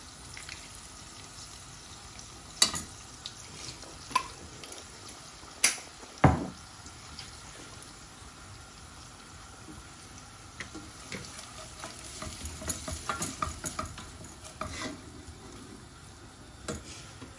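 Tfaya with cinnamon pieces and honey cooks gently on low heat in a pot, a soft continuous sizzle with occasional louder clinks and stirring sounds scattered throughout.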